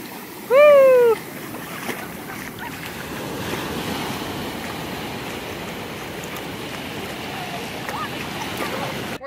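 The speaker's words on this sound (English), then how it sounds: "Oh, you want to stay in the ocean." Ocean waves wash continuously onto a beach in a steady surging hiss. A short whistle-like tonal sound rings out early above the broadband wash, and wind noise buffets the microphone.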